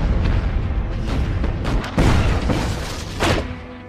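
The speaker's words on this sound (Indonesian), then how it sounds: "kapal perang Jerman mengeluarkan tembakan bertubi-tubi" Heavy booms of German warship gunfire roll out in several deep, close blasts, one after another with rumbling tails between them, in a World War II attack on Poland.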